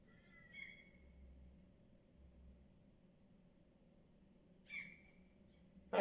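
A gull calls twice from near an apartment balcony, short high cries roughly four seconds apart over quiet outdoor background hiss.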